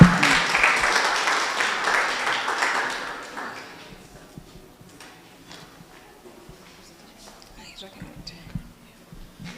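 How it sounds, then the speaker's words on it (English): Workshop audience applause at an intellectual property event, dense clapping for about four seconds that fades into quieter room noise with scattered taps. "So a round of applause for her."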